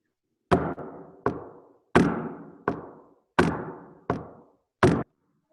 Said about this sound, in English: I will knock on the piano